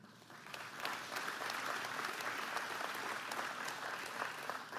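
Legislators in a chamber applaud during a governor's address, a steady, fairly distant wash of many clapping hands that swells after a brief start and holds evenly.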